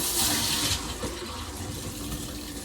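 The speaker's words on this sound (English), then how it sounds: "So I'm going to go ahead and wash off my oxtails." Water runs from a kitchen sink tap to rinse raw oxtails, a steady, close rushing and splashing stream that is strongest at the start and continues throughout.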